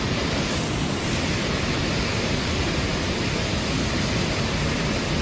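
A waterfall rushes in a steady, dense broadband roar that fills the whole stretch without pause, loud and continuous, with no voices or other sounds above it.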